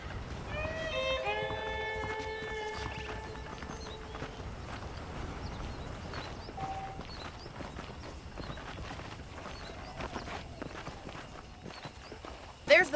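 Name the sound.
horse hooves clip-clopping, from a video game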